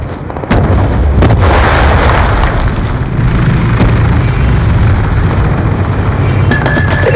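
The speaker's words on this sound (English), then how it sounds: "Lightning strike coordinates received inbound." A lightning strike killstreak in a hardcore first-person shooter pounds down as loud, heavy explosions: a sharp blast, then a few more thuds over a continuous rolling rumble that fills the whole stretch.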